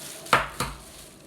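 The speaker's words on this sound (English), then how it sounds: "we're going to scrape the sides down to make sure that that egg is fully incorporated" A spatula scrapes twice around the sides of a mixing bowl of pecan praline buttermilk pound cake batter, two short close knocks about a quarter second apart.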